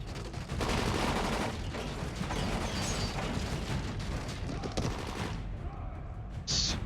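Gunfire in the video game Dying Light: dense, continuous bursts of shots and impacts crackle loudly for several seconds, then thin out near the end.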